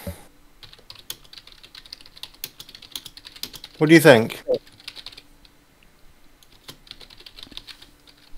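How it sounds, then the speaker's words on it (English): Someone types steadily on a computer keyboard, with light, irregular clicks that continue throughout, and a person speaks briefly midway. "I was just typing something in"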